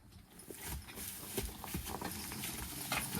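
Horses' hooves while logging on steep ground, a faint, irregular scatter of thuds and clops in the undergrowth under a low outdoor background.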